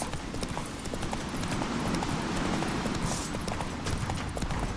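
Rapid, rhythmic hoofbeats in The Witcher 3 clatter steadily over a rumbling background, like a horse running at speed across hard ground.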